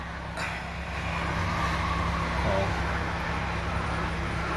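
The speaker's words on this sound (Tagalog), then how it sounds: "kung marinig nyo yung tumutunog guys, yan yung sa gulong ng mga sasakyan" Vehicle tires hissing past on a wet, rainy road, a continuous loud broadband wash of traffic noise with wind, steady throughout and no one speaking.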